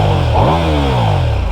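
A Ducati Diavel V4 motorcycle's V-shaped four-cylinder engine revs loud and close, rising sharply in one strong blip and then settling back to a rumbling idle.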